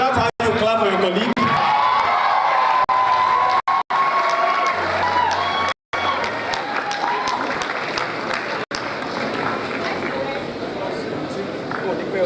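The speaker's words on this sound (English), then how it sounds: "Is that how you clap for your colleague?" An audience at a medical graduating class induction ceremony claps for the class valedictorian, a dense, sustained round of applause with a voice speaking over it and a few brief dropouts.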